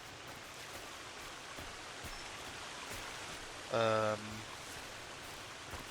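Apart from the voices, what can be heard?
waterfall in the video game Sons of the Forest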